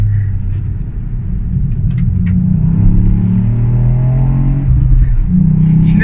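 A 2020 Ford Fiesta ST mk8 ST Edition with a 200 hp three-cylinder turbo engine and stock exhaust rumbles from inside the cabin, a loud steady low drone with rising and falling revs.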